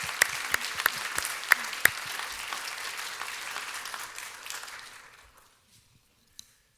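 At a university lecture event, an audience claps in dense, lively applause that gradually thins and fades to silence, followed by a single faint knock.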